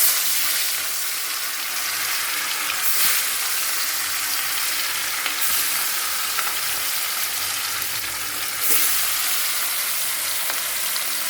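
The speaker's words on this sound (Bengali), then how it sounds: "মাছটা ভেজে উঠিয়ে নিই" Pieces of katla fish, rubbed with salt and turmeric, fry in hot oil in a wok, giving a steady, dense sizzle that runs the whole time with a few brief flares and no voices.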